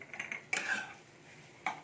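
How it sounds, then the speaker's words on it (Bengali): Spoon scraping and clinking against a bowl while mixing a vegetarian Mughlai paratha filling with half-crushed fried peanuts, a few short clattering strokes close by with quiet gaps between. "এবার এইটাকে আমি ভালো করে মিশিয়ে নিচ্ছি।"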